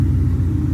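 A Ford Coyote V8 swapped into a 1965 Mustang restomod idles with a deep, steady rumble, loud and close, brief and without voices.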